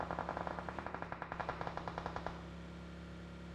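Rapid automatic gunfire in the battle royale video game BGMI, a fast evenly spaced burst of about twenty shots lasting a couple of seconds before fading into background game ambience.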